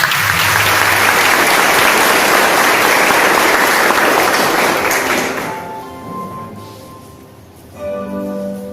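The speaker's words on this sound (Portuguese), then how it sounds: "Aplaude para o nosso Deus" A congregation at a Brazilian church retreat breaks into loud, sustained applause that fills the space, then fades out after about five seconds, leaving a quieter room with light tones and a few scattered knocks.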